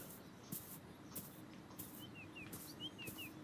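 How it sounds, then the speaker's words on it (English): Birds chirp in the video game Beyond Eyes, with several short, thin whistled calls repeating over a faint, steady ambient background. "There we go. Found a bird."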